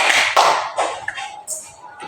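A classroom of people claps hands in a few quick, close bursts of sharp slaps, with voices mixed in.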